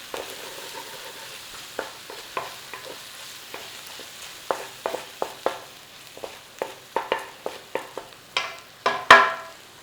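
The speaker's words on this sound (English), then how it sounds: "cook out that rawness a little bit with that butter in there" Butter sizzles softly in a pan while a utensil scrapes and taps through the food, with irregular clicks that grow busier toward the end.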